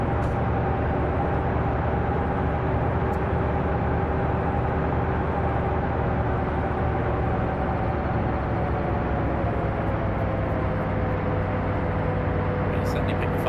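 A truck in the Arma 3 video game drives with a steady, droning engine hum and constant road rumble, with no break or change throughout.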